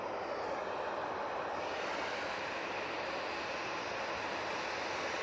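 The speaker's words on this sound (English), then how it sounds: "737-800 off to Malaga." TUI Boeing 737-800 taking off at Manchester Airport for Malaga, a steady broad jet roar holding at an even level throughout, heard alone without voices.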